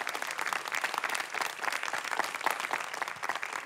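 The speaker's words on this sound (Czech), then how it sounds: "Dámy a pánové, zatleskejte Kazbovi." Studio audience applause on a Czech comedy talk show, a dense, steady wash of many hands clapping at moderate loudness with no talk over it.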